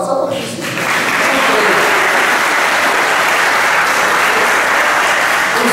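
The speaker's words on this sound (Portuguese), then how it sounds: "também merece uma salva de palmas" An audience at a Catholic Charismatic Renewal gathering breaks into loud, sustained applause that swells and holds steady, with crowd noise mixed in.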